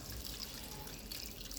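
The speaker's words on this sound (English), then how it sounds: "Gonna add some water," A short, steady wash of water runs into a pan, faint and hissy, with no voices.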